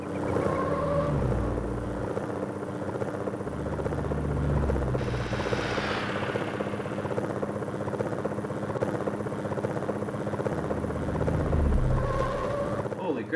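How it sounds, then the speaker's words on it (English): A helicopter's engine and rotor in the 1999 PlayStation racing game Need For Speed: High Stakes drone on continuously, shifting in pitch, with voices talking over it at moments. "Look at me, I'm driving a helicopter!"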